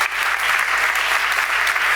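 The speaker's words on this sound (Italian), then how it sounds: "Possiamo fare un applauso" Steady, dense applause fills the room at an award ceremony as a professor receives his prize, even and sustained throughout with no break.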